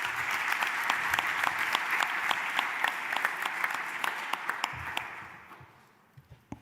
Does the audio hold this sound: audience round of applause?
yes